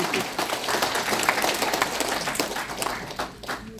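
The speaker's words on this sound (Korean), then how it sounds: "괜찮으면 박수를 칠 수 있습니다." An audience claps together for a few seconds, a steady burst of applause heard somewhat muffled in a hall.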